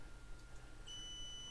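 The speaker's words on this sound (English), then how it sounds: "you probably heard that buzzer that goes off that indicates that it has detected something in the view of the camera that exceeds the temperature" An infrared fever-detection camera's buzzer alarm sounding as a faint, steady high-pitched electronic tone that starts partway through and holds over a low background hum.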